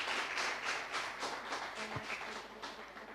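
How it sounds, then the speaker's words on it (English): Soft, steady applause from an audience at a children's annual book launch, many hands clapping in an even patter that sounds fairly distant and faint throughout. "Please give her another good clap to say thank you."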